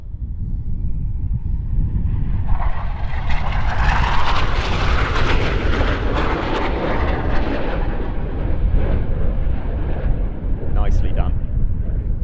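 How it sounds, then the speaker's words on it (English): A Leonardo M346 jet roars past at about 100 feet and 450 knots in a low knife-edge pass at an airshow, a loud, sustained engine rumble swelling and fading over several seconds with a commentator talking over it. "looking out for the M346 in what is its penultimate pass. Cleared down to just 100 feet"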